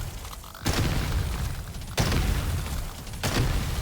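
Repeated blasts from grenades in the video game Deep Rock Galactic Survivor: three sudden loud booms roughly a second and a bit apart, each swelling into a dense, rumbling burst over continuous game noise.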